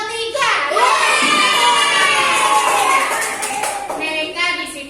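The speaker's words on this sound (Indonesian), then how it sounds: "Jadi tepuk tangan sekali lagi untuk kelompok 3." Children in a classroom applaud group 3 with loud, sustained clapping and excited shouts and cheers that carry throughout, a few young voices calling out over the crowd noise before it eases toward the end.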